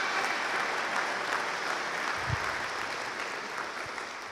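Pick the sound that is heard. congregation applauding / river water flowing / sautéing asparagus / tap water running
congregation applauding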